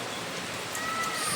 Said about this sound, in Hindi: बहुत ज़ोरदार बारिश आ रही है